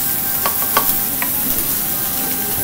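Meat frying on a hot griddle for monjayaki, a steady close sizzle with a few sharp scraping or stirring clicks near the start, no voices.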